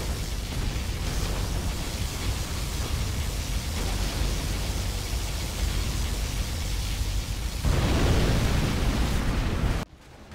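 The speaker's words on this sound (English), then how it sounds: "Particle cannon activated." A continuous roaring, hissing blast of a USA particle cannon firing in Command & Conquer Generals Zero Hour swells in intensity before cutting off abruptly near the end.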